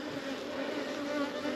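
Honey bees buzz at a bee escape, a dense, continuous, fairly faint drone with steady tonal hum and no pauses or voices.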